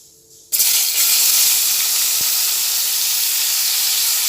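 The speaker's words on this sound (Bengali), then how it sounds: "তেলটার মধ্যেই আমি কিছুটা পেঁয়াজ কুচানো দিয়ে দেবো" Chopped onion dropped into hot oil left over from frying potatoes for ghugni: after a brief quiet start, a sudden loud hiss bursts in and settles into a steady, close, sustained sizzle.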